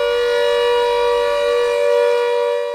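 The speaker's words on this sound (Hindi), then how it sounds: "इस सायरन से आम जनता को हम ये सिग्नल देते हैं कि दुश्मन के जहां फाइटर प्लेन एरिया में आ चुके हैं" A civil defense air raid siren warning of enemy fighter planes overhead wails loud and steady, a sustained harmonic-rich tone holding with only slight swells throughout.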